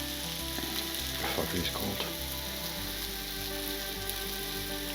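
Garlic sizzling as it fries in a pan for chicken Marsala. A loud, steady close sizzle with some stirring continues throughout, and a voice speaks briefly over it.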